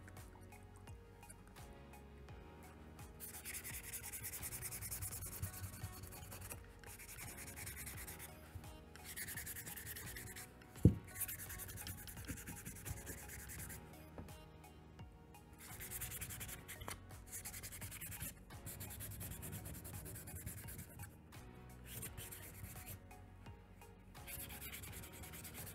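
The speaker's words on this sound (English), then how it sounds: "So I'm gonna go ahead and sand this piece" Hand sanding of a 3D-printed PLA Halo Needler part, with steady rubbing strokes repeating in bursts for the whole stretch under faint background music, plus one sharp click near the middle.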